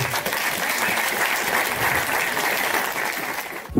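An audience at a medical school welcome ceremony breaks into loud, continuous applause, dense clapping sustained throughout before cutting off abruptly at the end.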